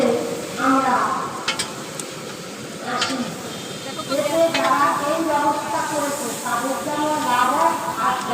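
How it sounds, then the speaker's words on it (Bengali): Food frying in oil for a second round at an outdoor community picnic, a loud sizzling hiss with stirring scrapes, heard under continuous nearby talk and background chatter. "এক ইয়েটা ফ্রাই হয়ে গেছে আবার দ্বিতীয়বার দেওয়া হয়েছে ফ্রাইয়ের জন্য"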